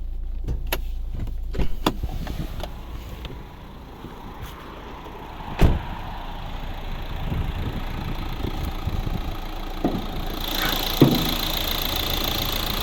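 A 2013 Renault Scenic III's 1.5 dCi diesel engine idles steadily with a low rumble, punctuated by a few clicks and clunks, and a higher whine joining near the end.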